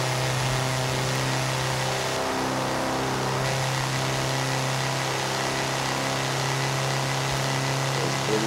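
A car engine in Forza Horizon 4, sounding like a VW Beetle, drones steadily at a low, even pitch with a slight revving shift partway through, close and continuous with no voices.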